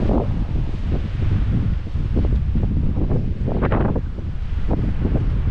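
Steady wind roars and buffets across the microphone at a backcountry campsite at Rain Lake, Algonquin Park, Ontario, a continuous rushing noise with occasional louder gusts.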